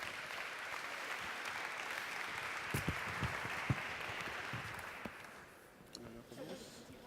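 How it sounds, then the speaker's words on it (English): An audience at the IGNITE 2016 event applauds three Syrian speakers as they come up to the stage. The steady clapping fades out near the end, and a voice begins speaking as it dies away. "Can I please have a warm applause for Allah, Ahmed and Hamza"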